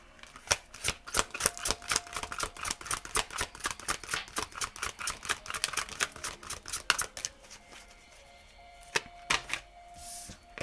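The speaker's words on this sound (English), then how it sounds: "Too many cards came out there, so I am going to reshuffle that." Tarot cards are riffled and shuffled in a rapid run of crisp, close snapping flutters, then the pace slows to a few scattered taps and shuffles toward the end.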